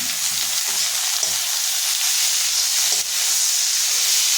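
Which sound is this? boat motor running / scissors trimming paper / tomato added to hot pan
tomato added to hot pan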